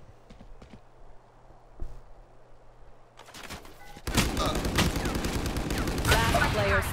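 Gunfire in the video game Valorant, a quieter stretch of scattered clicks and footsteps giving way to a loud, dense burst of rapid shots that continues to the end.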